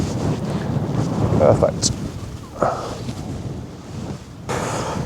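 Wind gusting across an exposed, remote UK golf course, a steady rushing buffet on the microphone with a few sharper blasts, heard under a golfer's brief spoken comment.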